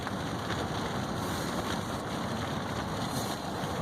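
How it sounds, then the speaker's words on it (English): Dense, steady drumming of hail and rain on a taut tent, loud and close, a constant rattling roar with wind throughout. "Just had a little bit of hail come through, I think."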